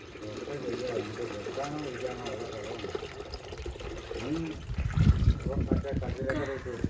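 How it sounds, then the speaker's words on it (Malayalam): Water pours and splashes close by, under steady nearby talking, with a louder burst of splashing toward the end. "ഇച്ചിരി കൂടി വെള്ളം ഒഴിച്ചു വേണം"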